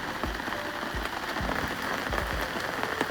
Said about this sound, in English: it's pissing it down out here, to the point where you can probably hear the rain